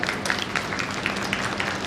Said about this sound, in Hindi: एक बार अपनी माँ के लिए जोरदार ताली बजा दें।